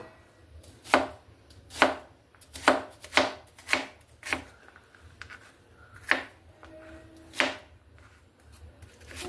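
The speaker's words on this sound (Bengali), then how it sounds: "জামরুলগুলোকে আমি সব আগে কুচিয়ে নেবো" Rose apples (jamrul) are chopped into small pieces on a board. About ten sharp knife strikes land at close range with an uneven rhythm and quiet pauses between them.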